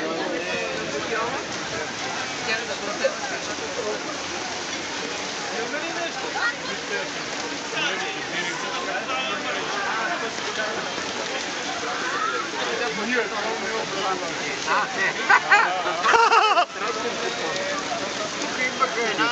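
Light rain falls steadily outdoors as a broad, constant hiss, with people talking over it throughout.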